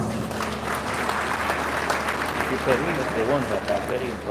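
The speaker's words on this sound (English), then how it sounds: "Did I hear a round of applause?" A university Founders Day audience breaks into a round of applause, a sustained crowd of clapping hands mixed with murmuring voices and a low background hum throughout.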